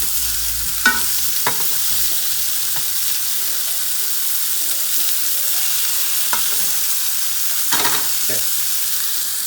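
Burgers sizzle and fry in a hot pan, a steady close hiss broken by a few sharper pops and clatters, with a brief word spoken.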